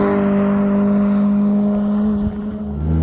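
Cammed Citroen C2 rally tribute car engine revving, a loud, close, sustained buzzing drone that holds steady and then drops off sharply near the end as the revs fall.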